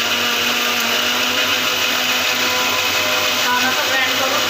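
An electric mixer grinder whirs loudly and steadily as it grinds masala, a constant high-pitched motor drone with a faint hum beneath.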